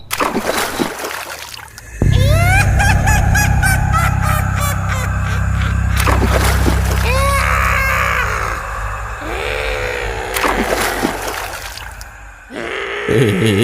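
Water splashing and sloshing as someone bathes in a village pond, loud and close bursts of splashing with trickles in between and brief vocal cries mixed in.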